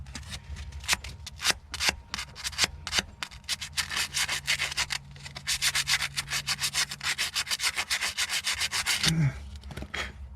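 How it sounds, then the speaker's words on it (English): Close, steady scratchy rasping of 150-grit sandpaper rubbed back and forth over boat battery terminals, a continuous rhythmic scrubbing that speeds up into dense strokes before a brief thump near the end. "I'm just taking some 150 sandpaper and shining up those terminals really nice."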